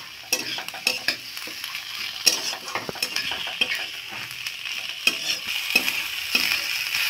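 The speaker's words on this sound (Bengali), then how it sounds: "সমস্ত উপকরণগুলোর সাথে আমি খসাগুলোকেও ভালো করে তেলের সাথে একটু হালকা ভেজে নেব।" Potato peels stirred and lightly fried in oil along with other ingredients, a close, steady sizzle broken by frequent scraping and clinking of a spoon against the pan.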